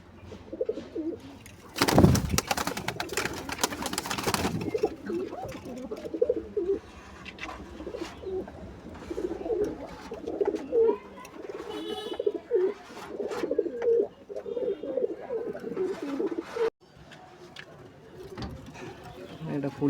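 Madraz and Malwai pigeons in a loft, including a red Madras and young birds, give intermittent rolling coos and chirps after a loud, sharp clattering burst near the start.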